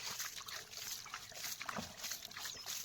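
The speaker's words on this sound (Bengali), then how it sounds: "এই দেখুন জল নিচ্ছি খাচ্ছি" Water trickling and sloshing as it is scooped from a cold, clear forest stream by hand, a steady close splashing and dribbling with light rustle throughout, no talking.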